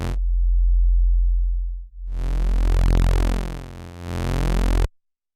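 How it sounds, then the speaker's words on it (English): A U-he Zebra 2.8 synth oscillator using phase distortion sounds a loud sustained buzzy tone, briefly cut off, then returning with a bright sweeping timbre that shifts in harmonics before stopping abruptly. "You've got phase distortion."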